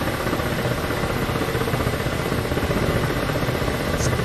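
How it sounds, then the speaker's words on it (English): A helicopter in the DCS World 2.7 flight simulator gives a steady, dense rotor and engine roar, loud and unbroken throughout with no speech. "I gotta say, I'm kind of liking the helicopter."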